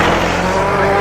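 A rallycross car, number 72, roaring up Hairy Hill into the hairpin bend at Lydden Hill, engine loud and close with a steady high-revving drone throughout the short moment.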